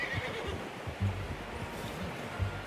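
A horse whinnies faintly at a distance in the video game Red Dead Redemption 2, mixed with soft hoof clops and low ambient rumble.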